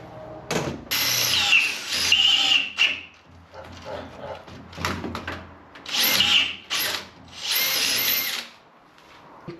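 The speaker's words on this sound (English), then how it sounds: "drill my holes." A power drill bores holes in plexiglass in short bursts, each a high whining grind that rises and cuts off, repeated about six times with brief pauses, close and loud.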